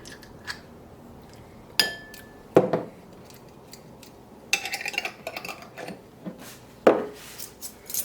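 Two whole eggs, a tablespoon of Dijon mustard and lemon juice being whisked in a bowl for homemade mayonnaise: scattered clinks and taps of utensil against the bowl, with sharp knocks and brief scraping bursts, close and fairly quiet.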